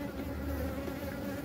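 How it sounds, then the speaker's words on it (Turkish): Honeybees hum steadily at an open hive while frames are pulled, a dense, close and continuous buzz with no pauses and no talking. "Yani bu arı maşallah çok güzel."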